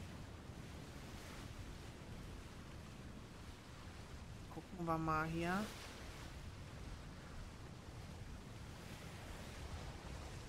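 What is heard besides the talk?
raft sailing with wind and waves in the video game Atlas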